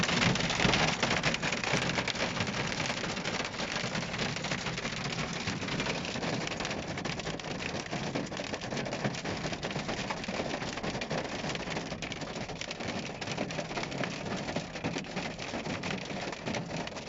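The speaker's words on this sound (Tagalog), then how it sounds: "Umuulan pa rin ng yelo, dami na." Hailstorm in Al Soodah, Abha, with ice pellets pouring down in a dense, steady hiss and patter that stays loud and unbroken throughout, no voices over it.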